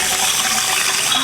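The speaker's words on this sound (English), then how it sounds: "Hey, that's good water pressure, Joe." Water gushes from a tap at an off-grid Alaska cabin supplied by an old well, a loud, steady, close rushing stream with no pauses.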